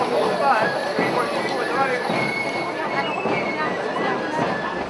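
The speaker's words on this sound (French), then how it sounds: "près de 60 chevaux étaient attelés devant la charrette ramée" Teams of draught horses pulling a cart in a festival procession clop along a town street, their hooves blending into a dense wash of crowd chatter, music and general bustle that never lets up.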